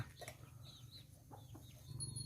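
Farmyard chickens cluck softly in short, scattered bursts against a low background hum, fairly quiet and with no voices.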